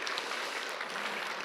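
A church congregation applauds guest guitarist Doyle Dykes during a Sunday morning service: a dense, steady wash of many hands clapping at once, fairly distant and unbroken throughout.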